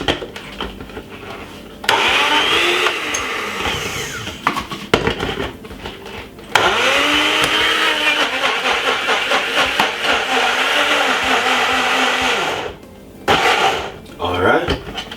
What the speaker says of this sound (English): we're gonna blend it for roughly about 3 to 4 minutes